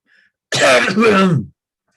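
A single short, gravelly cough or throat clearing, close by, in otherwise near silence.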